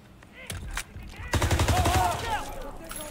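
A machine gun in a World War 2 video game rattles off a rapid, loud burst of closely spaced shots, preceded by a couple of single gunshots, with a voice speaking briefly around the fire.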